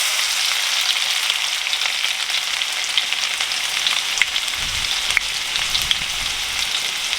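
Garlic sizzles and crackles steadily in hot oil for a village-style crab sukka, a close, continuous frying hiss with a few louder pops and no one speaking.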